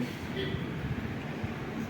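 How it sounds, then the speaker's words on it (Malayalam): Kottayam Express train pulling out of a railway station in Wayanad, a steady low rumble of rolling wagons at moderate distance, with faint voices mixed in. "കോട്ടയം എക്സ്പ്രസ് നമ്മുടെ വയനാട് റെയിൽവേ സ്റ്റേഷനിൽ നിന്ന് പോയി"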